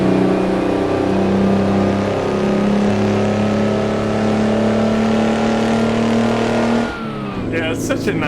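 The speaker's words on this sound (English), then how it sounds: "Such a nice sounding truck," Mack R truck with a Detroit 2-stroke engine in American Truck Simulator, a steady droning engine note held for several seconds before it cuts off, followed by a brief clatter.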